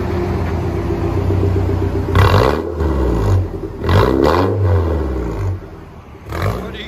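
A 2000 Toyota Tacoma 4-cylinder fitted with a Borla ATAK exhaust idles with a deep rumble, then gets revved in several short bursts that swell loudly and fall back close by.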